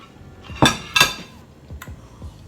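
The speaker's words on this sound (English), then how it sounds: "Let me put this plate down" A plate is set down on a table: two close, bright clinks of dishware in quick succession, followed by a few softer taps, with no voices.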